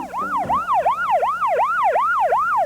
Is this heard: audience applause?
no